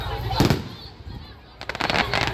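Carnival fireworks burst in two close, loud clusters of sharp cracks and crackling, a short lull between them, with people talking nearby.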